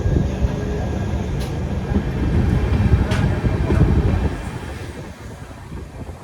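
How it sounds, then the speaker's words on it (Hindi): The Udhampur Chhapra Holi special train pulls out of Laksar Junction in Uttarakhand with a steady rumble and rattle of rolling carriages. The sound is heard from on board, grows a little louder, then eases, with no talk over it. "सो फाइनली अपनी ट्रेन 9 घंटे डिले के साथ निकल चुकी उत्तराखंड के लक्सर जंक्शन से"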